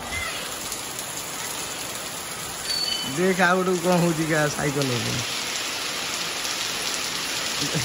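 Heavy rain falls as a steady hiss throughout, and partway through people talk briefly over it.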